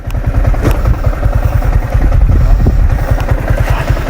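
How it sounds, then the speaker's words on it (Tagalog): Yamaha Sniper 155R VVA motorcycle engine idling up close, a loud, even, rapid putter running steadily throughout with no talk. "So there you have it guys, Sniper 155R VVA."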